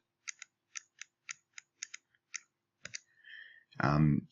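Crisp computer mouse clicks come in a quick irregular series, some in doubled pairs, close and clean, before a brief voice speaks near the end.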